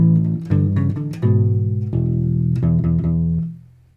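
Measures three and four of a main theme on a U-Bass, a short phrase of warm plucked notes, solo and close, the last note ringing out and fading.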